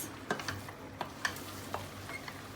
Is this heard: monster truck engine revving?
no